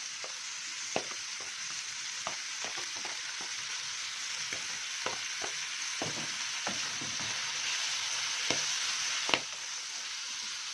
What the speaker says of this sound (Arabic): اللي بيفرقع ده السمك